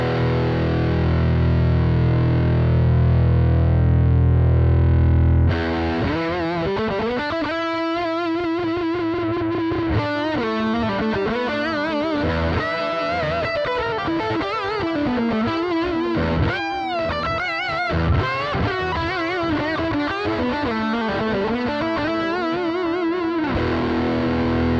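Electric guitar played through the Lead 100 distorted amp model on a NUX Mighty Plug headphone amp: a sustained heavily driven chord rings first, then a busy run of saturated lead notes and riffs fills the rest, loud and continuous with no talking.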